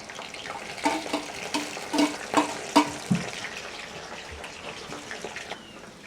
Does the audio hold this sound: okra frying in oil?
yes